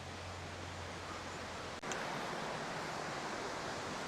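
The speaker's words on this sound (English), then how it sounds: "that's a great flow on the waterfall as well" A waterfall on an easy walking trail in Northern Ireland, in full flow, gives a steady, dense wash of rushing water that fills the whole stretch with no break.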